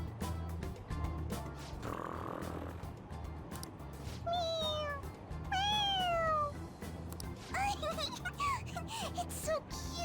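A cat meows repeatedly in the video game Persona 5 Royal, a few rising and falling cries over game background sound, with some light talk mixed in.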